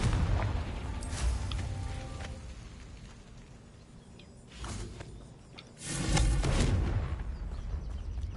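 A Confringo fire spell goes off in Hogwarts Legacy as a string of deep booming blasts with whooshing bursts, loud and rumbling, the heaviest explosion arriving near the end.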